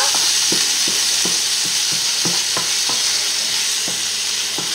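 Salmon risotto stirred in a pan over the heat, a soft steady sizzle broken by repeated scraping strokes of the spoon against the pan, with no voices.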